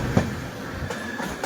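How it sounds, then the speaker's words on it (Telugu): A 17040 Da Gama–Secunderabad express train rolls along, heard from inside a sleeper coach as a steady rumble with a brief louder knock near the start, carrying on without speech. "మన ట్రైన్ అయితే టన్నల్స్ మీద చాలా వెళ్తూనే ఉంది."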